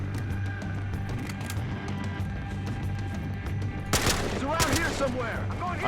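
Gunfire in Battlefield Hardline: a steady rattle of rapid shots over a low game rumble, turning into a louder, denser burst near the end, with a voice talking faintly beneath.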